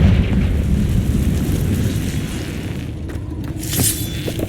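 Confringo blasting spell exploding in the Hogwarts Legacy video game: a loud, sustained low rumbling blast with crackling debris, followed by a sharper burst near the end, with no talk.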